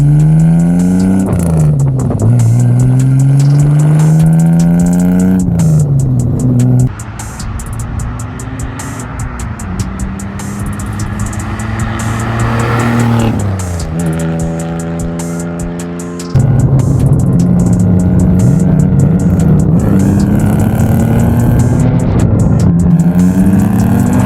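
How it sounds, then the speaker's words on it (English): A 2023 Hyundai Elantra N engine revs hard through repeated upshifts, its loud, close tone climbing and dropping with each gear change over a long stretch of spirited driving. "So now James is gonna get a ride in my 2023 Hyundai Elantra N"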